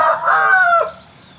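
A five-month-old fighting rooster crows loudly and close, a single drawn-out cock-a-doodle call that rises and then trails off, with little else around it.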